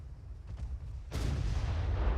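Naval 5-inch guns boom in the Ultimate Admiral: Dreadnoughts battle game, a sudden loud blast about halfway through that gives way to sustained rumbling report and low battle noise.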